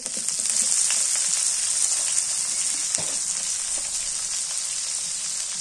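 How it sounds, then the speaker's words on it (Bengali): Chopped onion fries in oil with bay leaves and whole spices, a steady close sizzle hissing throughout with faint scattered pops, nobody speaking. "পেঁয়াজটা একটু হালকা করে ভাজি।"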